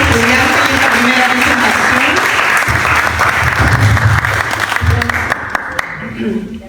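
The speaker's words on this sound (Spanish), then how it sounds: "Agradecemos el aplauso entonces a nuestros estudiantes en esta primera" A university audience at Universidad de Santiago de Chile gives a sustained round of applause to students after their first research thesis presentation. The clapping is thick and steady, then loosens into scattered claps near the end.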